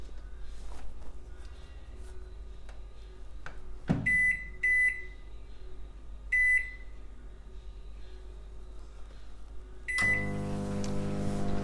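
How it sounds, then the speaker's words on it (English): A microwave oven hums steadily while melting chocolate bars, with a few clicks and a handful of short electronic beeps, then a louder, richer hum as the oven starts running near the end. "So I'm putting it in the microwave now"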